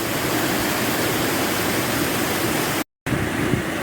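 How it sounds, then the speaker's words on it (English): Waterfalls on the River Sprint in the Lake District, heard as a steady, dense rush of falling water close by, unbroken apart from one brief dropout near the end. "we're now back to waterfalls and pools heading up the valley"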